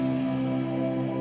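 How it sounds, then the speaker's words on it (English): A sustained electric guitar chord rings out with a wash of reverb, steady and full with no talking. "I did also add an electric guitar, so I'll show you what that sounds like really quickly."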